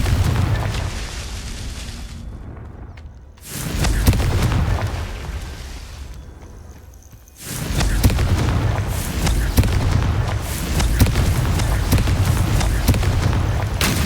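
Two booming blasts from the Confringo fire spell in Hogwarts Legacy, each a loud roaring burst that decays, with a brief lull between and more rumbling combat noise after.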